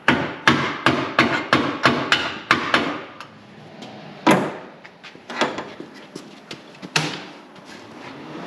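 Hammer striking repeatedly during a hands-on reconfiguration job, a quick run of sharp, loud blows followed by slower, more scattered hits, close to the mic with no talk.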